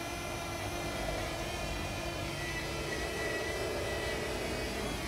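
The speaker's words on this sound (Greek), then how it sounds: "να δούμε πόσο καλά μπορούμε να κάνουμε προσγείωση πάνω στο landing pad που έχω" A DJI Flip drone hovers down toward a landing pad, its propellers giving a steady, close, whining buzz that holds constant throughout.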